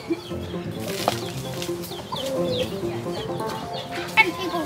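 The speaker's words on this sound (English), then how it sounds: "Look at that line of happy horses and chickens." Chickens cluck and flap their wings on a remote island homestead, a busy mix of short clucks and wing bursts with a sharp flutter near the end.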